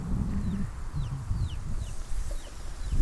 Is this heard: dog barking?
no